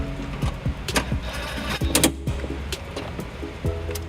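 A ratcheting socket wrench with a 10mm socket working cargo anchor screws on a 2012 Toyota RAV4, close rapid clicking bursts with short mechanical whirs in an uneven rhythm, no talking.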